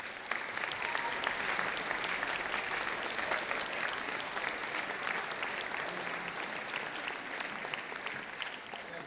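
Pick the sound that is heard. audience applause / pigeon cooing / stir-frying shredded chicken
audience applause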